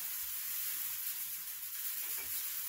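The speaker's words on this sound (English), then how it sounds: "We're having a hailstorm come through, so you're probably hearing it hitting the top of the roof here." Hail pelts a workshop roof during a hailstorm, a dense, steady high hiss of tiny impacts with no distinct separate hits, faint and continuous.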